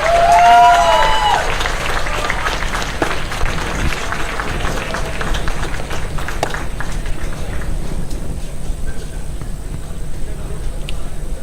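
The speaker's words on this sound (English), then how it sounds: "Let's give a big round of applause" Conference audience applauds a leadership award winner at an international summit, a broad wash of clapping that stays steady throughout with voices talking over it.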